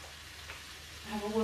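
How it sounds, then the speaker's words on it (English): Soft steady sizzling of food frying in a pan, growing a bit louder near the end, with no talking. "So we're just frying up the onions."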